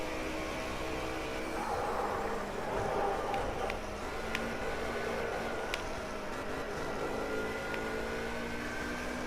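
A Mercedes Group A rally car engine in a racing game, a loud sustained drone with smooth rising and falling pitch as it revs, steady throughout with a few faint clicks.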